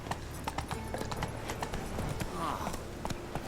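Horse hooves clip-clopping at a steady pace in the video game The Witcher 3, with game ambience and faint background voices underneath.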